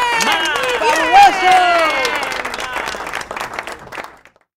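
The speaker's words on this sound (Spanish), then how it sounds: "todo el público se levanta y aplaude" A crowd applauds and cheers after a guitar solo, with clapping and a whistle or shout rising in the first seconds, then tapering off and stopping near the end.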